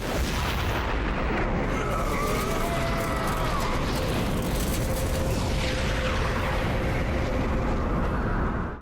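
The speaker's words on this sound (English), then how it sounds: "The explosion lights up the sky, a burning reminder of the danger that nearly consumed everything" A loud, sustained roar of an explosion from the Transformers Animated cartoon, dense rumbling and crackling debris filling the whole stretch with steady intensity and faint whooshing tones drifting through.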